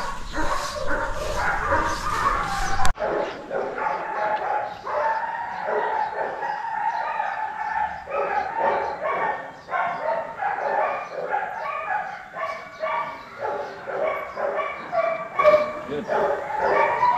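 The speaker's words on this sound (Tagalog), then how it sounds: "So maglalabas tayo ng aso guys." A dog barking and yipping repeatedly, close and loud, with whimpers between barks, while people talk nearby.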